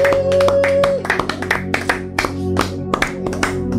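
A congregation claps along in a steady, quick rhythm at a French-language international prayer retreat night, with sustained music and a few voices underneath the dense run of hand claps.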